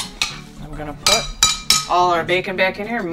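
Carbonara pasta with bacon is stirred in a pan on a cooking show, with a metal utensil scraping and clinking against the pan in quick repeated strokes, close and fairly loud, while someone talks over it.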